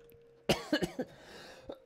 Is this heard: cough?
yes